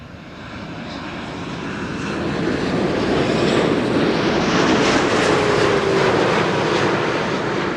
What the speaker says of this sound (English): Keep hearing airplanes above me, but not seeing them.